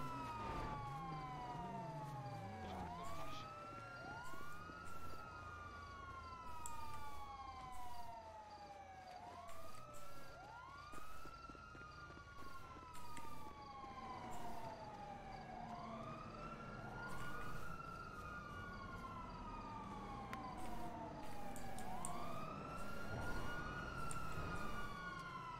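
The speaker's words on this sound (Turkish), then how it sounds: "Polis arabası 2 tane." Two police car sirens wail in a GTA roleplay game, overlapping sweeping tones rising and falling continuously and loud throughout, with engine rumble beneath and no talk.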